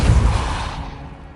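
Depulso force spell cast in Hogwarts Legacy, a loud, sudden blast with a heavy low thump that quickly fades into a short trailing rumble, alone with no voices.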